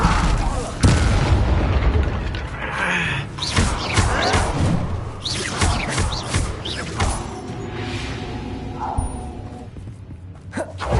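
An Incendio fire spell from the Hogwarts Legacy video game erupts in a series of heavy booms and thuds during combat, loud and close, with voices breaking in between the blasts.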